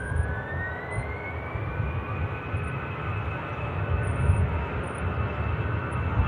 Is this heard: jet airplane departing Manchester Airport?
yes